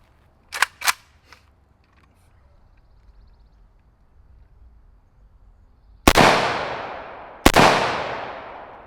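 An AK-74 rifle firing two loud, sharp shots with ringing decay, fired without a suppressor, after a couple of quick metallic clicks and a stretch of quiet handling noise at the start.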